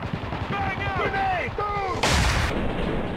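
Grenade blast in the war shooter Spec Ops: The Line, a loud broadband burst arriving after a second and a half of gunfire and shouted voices, leaving a brief rumbling tail.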